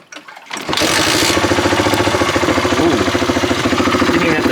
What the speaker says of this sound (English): Didn't even have to choke it.